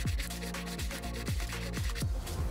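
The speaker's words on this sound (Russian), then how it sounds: "Наждачной бумагой снимаем окислы." Sandpaper scrapes back and forth over a metal coin in quick, repeated strokes, removing oxides, close and fairly quiet.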